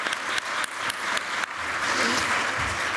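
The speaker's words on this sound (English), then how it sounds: "So I would like to a round of applause for everybody who has made this event possible." A forum audience breaks into applause, with a few sharp distinct claps at the start that quickly swell into a dense, sustained round of clapping from the room.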